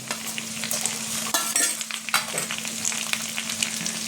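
A hand-ground paste of ginger, garlic and dried red chilli fries with tomato in a pan for a Bengali-style bhetki fish head kosha, making a close, steady sizzle broken by spatula scrapes and stirring clinks, with no voices.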